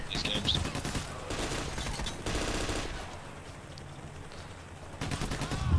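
Gunfire from Payday: The Heist on the Slaughterhouse heist, with loud bursts of rapid shots in clusters separated by quieter stretches, and a voice speaking faintly among the shooting.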